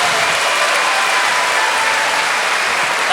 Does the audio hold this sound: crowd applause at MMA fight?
yes